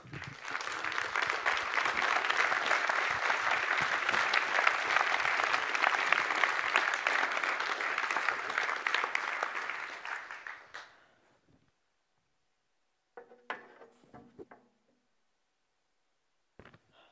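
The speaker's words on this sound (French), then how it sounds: "Je demande donc d'applaudir chaleureusement Monsieur Jean-Paul Kaufmann." Warm audience applause welcomes a guest to an on-stage interview about wine, loud and sustained for about ten seconds before fading out, followed by faint rustling and a few small knocks.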